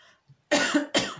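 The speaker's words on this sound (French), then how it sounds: "qui me fait tousser." Two harsh, close coughs in quick succession follow a brief quiet moment, with no talking.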